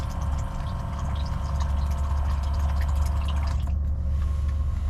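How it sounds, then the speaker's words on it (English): A small USB electric pump hums steadily as water runs and splashes into a 5-gallon jug, continuous and close. "So this is my USB water pump"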